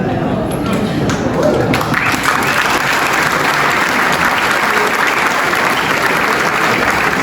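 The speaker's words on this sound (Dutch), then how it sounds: "Groot applaus voor Hypocrita." Loud, dense applause from a carnival-evening audience fills the whole stretch, steady and sustained, with crowd noise and some voices mixed in.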